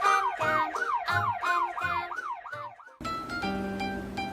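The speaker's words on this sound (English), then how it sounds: "Ambulance." An ambulance siren wails in repeated rising and falling sweeps, loud and close, then cuts off abruptly into a different steady toy-like tone with clicks.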